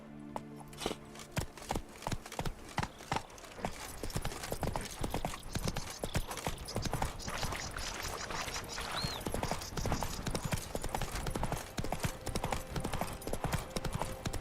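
A horse galloping in The Witcher 3 video game: fast, steady hoofbeats drum loud and up front for the whole stretch, with a brief tonal game sound near the start.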